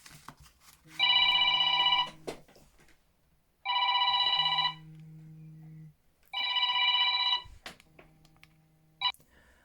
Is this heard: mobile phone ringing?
yes